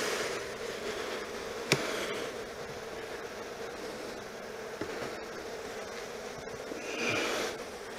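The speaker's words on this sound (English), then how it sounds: "These are some really heavy, heavy duty working bees." Honey bees buzz inside an open hive, a soft, steady hum that carries on throughout, quiet and close, with a couple of faint knocks and no talking.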